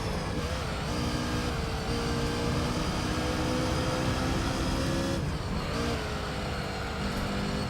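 Racing car engines in Gran Turismo 3 during an All Japan GT Championship race, including a Supra: a loud, continuous engine drone with shifting pitch as gears change, a brief dip near the middle, then rising again.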